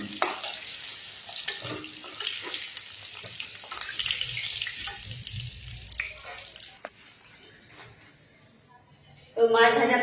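Eggplant slices fry in hot oil in a pan, a light crackling sizzle with occasional stirring scrapes, moderately close, under a voice talking, then a louder burst near the end.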